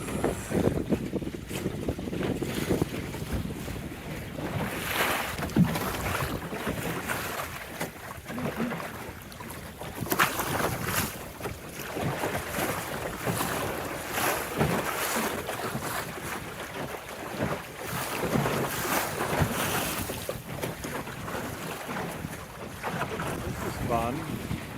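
A small John Welsford Navigator sailboat pounds through choppy, sloppy waves rebounding off a break wall, with steady wind buffeting the microphone, water rushing and slapping the hull continuously and loud throughout.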